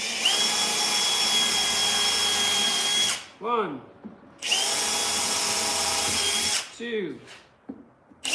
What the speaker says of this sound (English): Just drill this down like this.